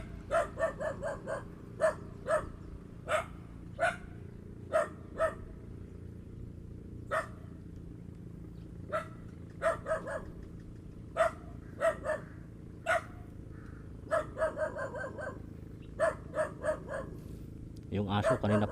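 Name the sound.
dog barking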